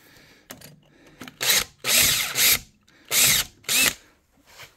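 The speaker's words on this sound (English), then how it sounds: "tapping these holes." A power tool is tapping threads into bolt holes on a JQ400 mini skid steer. It runs in several short bursts of about half a second each, close and loud, with quiet gaps and light handling noise between them.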